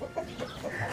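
An aggressive farmyard rooster clucks in a short, close burst of rough, uneven calls against a noisy outdoor background.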